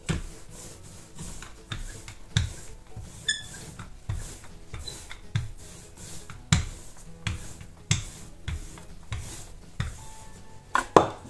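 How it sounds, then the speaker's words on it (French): Wooden rolling pin rolling out orange biscuit dough on a counter, with repeated dull knocks and rubbing strokes in an uneven back-and-forth rhythm, close and fairly loud. "je vais étaler ma pâte à l'aide de mon rouleau"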